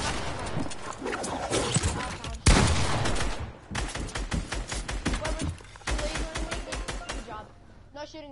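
Rapid gunfire from a shooter video game rattles in dense, fast volleys with one heavy boom midway, loud and near, with voices talking over the shooting.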